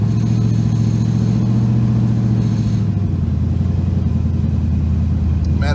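An LS-swapped 1977 Chevy Nova rumbles loudly through cheap mufflers, a deep steady exhaust drone from inside the moving car that drops to a lower pitch partway through, with no talking over it.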